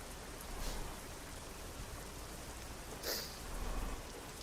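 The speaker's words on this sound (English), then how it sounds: "what do you mean it's raining?" Rain falls steadily in a truck driving video game, a soft even hiss with brief louder swells, heard alone without talk.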